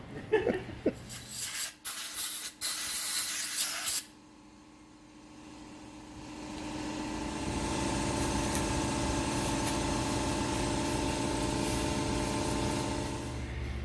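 A steady mechanical whirring hum from a power drill spinning an engine valve with lapping compound on a Brute Force 750 engine rebuild, following a few sharp clattering knocks at the start.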